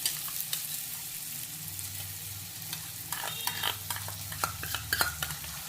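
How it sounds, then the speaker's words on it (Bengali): Onions frying in a pan with ginger-garlic paste added, for a light mutton curry: a steady close sizzle with repeated scraping stirs and spoon taps building toward the end, no voices. "এবার এর মধ্যে বাকি আদা রসুন বাটাটা দিয়ে দেবো"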